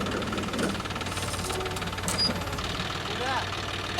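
A John Deere 5210 tractor working an 18-disc harrow runs with a steady knocking diesel drone close by, while a voice talks over the engine.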